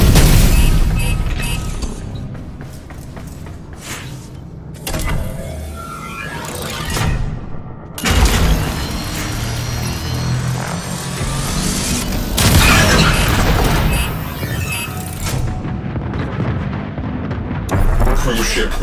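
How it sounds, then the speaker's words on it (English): A ship reactor detonates in a video game, a loud chain of heavy booms and crashing blasts over a continuous roaring rumble that surges again midway and holds to the end. "ship reactor has detonated"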